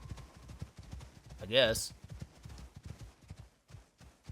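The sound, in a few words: horse hooves clip-clopping in video game Icarus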